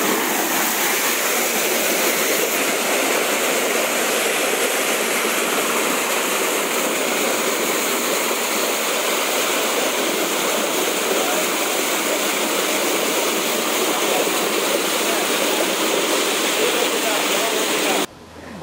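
Water gushes hard from an open pump motor outlet at an outdoor spot, a loud, steady broadband rush that carries on unbroken for the whole stretch and cuts off at the very end.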